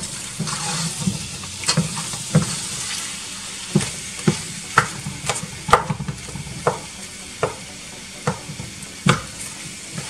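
Goat meat with peppers cooking on low heat for spicy asun, a steady soft sizzle broken by repeated utensil scrapes and stirring knocks at an irregular rhythm, close by with no talking.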